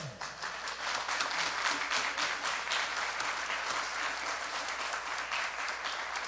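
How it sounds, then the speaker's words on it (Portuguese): Men in a church congregation clap for the women, a fairly faint but continuous round of applause that stays even for several seconds. "vamos dar uma salva de palmas para as mulheres?"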